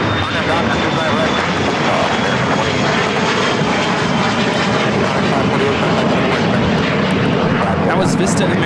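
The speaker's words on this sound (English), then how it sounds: "That was Vista America 548 taking off to Santa Rosa on the Challenger 300." A Challenger 300 business jet takes off at LAX with a loud, steady engine roar that fills the whole stretch, broad and continuous.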